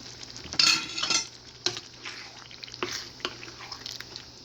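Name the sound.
stirring ground meat in frying pan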